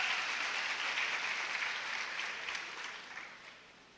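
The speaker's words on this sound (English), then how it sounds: "Give Ms. Malone a big round of applause." Crowd applause for a teacher at an 8th grade graduation ceremony, a dense, steady wash of many hands clapping at a distance that slowly fades over four seconds.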